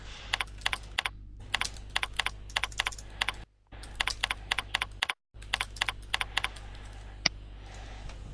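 Rapid bursts of computer keyboard typing during business software data entry, crisp close keystrokes in quick clusters with two brief pauses, over a steady low hum and no voices.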